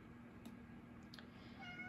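A house cat gives a couple of short, faint meows against a quiet indoor background, with no one speaking.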